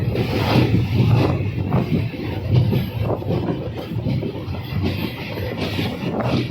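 A passenger train on the Guntur to Rajahmundry line runs toward the Godavari bridge with a continuous heavy rumble and a rolling, uneven clatter of wheels, loud and close throughout; no one speaks.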